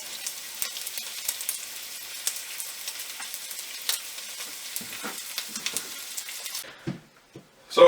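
Strips of medieval-style bacon fry steadily in a pan, fat pooling as a dense, continuous sizzle with small pops and crackles throughout, close and alone, until the sizzling drops away near the end leaving a few quieter spits and knocks.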